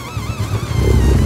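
Seat Leon WTCC racing car engine revving loudly and steadily up close, a dense continuous roar with rising intensity toward the end and no talk.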